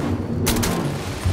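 Turret gunfire in the Starfield video game: a brief burst of loud shots near the middle of the clip over a steady background game rumble.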